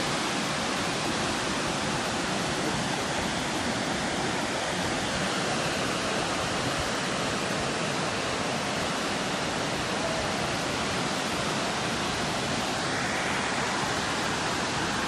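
Kepler Cascades waterfall in Yellowstone National Park, a dense, unbroken roar of rushing water that stays steady and loud for the whole stretch with no other sounds standing out.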